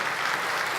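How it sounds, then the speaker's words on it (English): Steady applause from a tech keynote crowd at Microsoft Build 2017, a dense wash of clapping with no pauses. "Now, applause."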